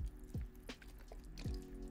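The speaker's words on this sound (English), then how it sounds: "I can add some water to this and then a little bit of Novasan" Water being added to a reptile enclosure, with a couple of faint drips and small trickles over a low steady background, close but quiet.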